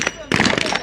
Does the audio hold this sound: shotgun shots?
yes